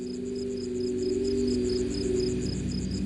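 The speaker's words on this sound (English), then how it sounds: "You can hear the crickets" Crickets chirp on a night, a steady, fairly close trill of rapid repeating pulses over a low hum, with no other sounds or voices.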